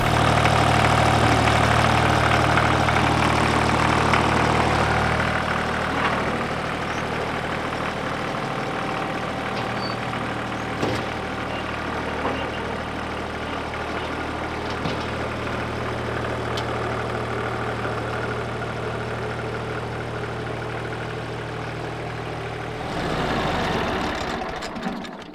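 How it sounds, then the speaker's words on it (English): A 1978 Ford diesel tractor of about 38 horsepower idles close by, a steady low rumbling drone with a slightly knocking diesel character, loud at first, then settling and swelling briefly near the end. "it's my dad's 1978 Ford tractor, diesel. It's got like 38 horsepower or something."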